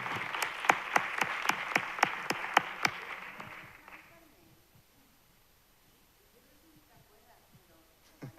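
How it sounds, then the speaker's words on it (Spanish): Audience at a round-table event marking an engineering school's 50th anniversary applauds, a roomful of clapping with several sharp claps up front that fades out after about four seconds into quiet room tone. "Yo creo que otro aplauso"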